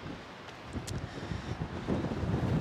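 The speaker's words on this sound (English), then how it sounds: "Very, very windy." Strong wind buffets the microphone in a steady low roar with gusty swells, and no voices are heard, in Valencia, Spain.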